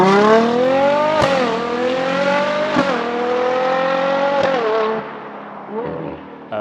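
A Ferrari Purosangue V12 on a Novitec sport exhaust revs loudly up close, holding a smooth, tuneful drone with several quick blips and rev changes before the tone eases off.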